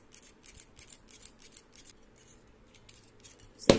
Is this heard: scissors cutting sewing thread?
yes